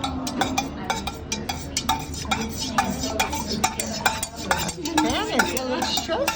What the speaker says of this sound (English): Stir the wax and fragrance.